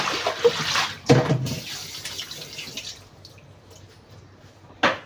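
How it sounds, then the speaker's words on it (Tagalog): Pork ribs are washed under a running kitchen tap, with close, steady splashing that swells in bursts near the start and again at the end, alone without talk. "maghugas ng pork rib"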